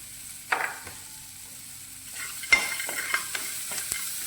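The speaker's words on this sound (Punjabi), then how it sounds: "ਤੇ ਇਦਾਂ ਇਹਨੂੰ ਭੁੰਨ ਲਵਾਂਗੇ ਜਿਹੜੀ ਮੂੰਗਫਲੀ ਉਹ ਵੀ ਰੋਸਟ ਹੋ ਜਾਏਗੀ ਨਾਲ ਹੀ" Peanuts roast in a pan, turned by a utensil that makes sporadic scrapes and small clinks over a low sizzle, close but fairly quiet, with no talk.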